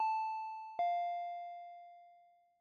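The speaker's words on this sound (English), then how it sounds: "I heard the doorbell ringing." A doorbell chimes a clear two-note ding-dong, each tone ringing out and slowly fading in an otherwise silent room.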